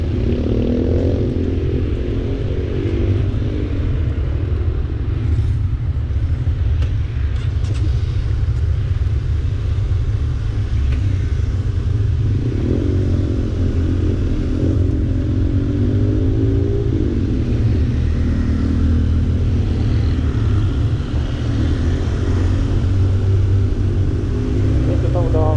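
Motorcycle engine rumbling steadily while riding in slow holiday-exodus traffic near a ferry port queue, with loud low drone throughout, occasional revs, and people talking over it.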